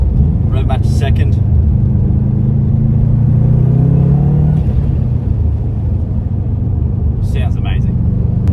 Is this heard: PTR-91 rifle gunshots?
no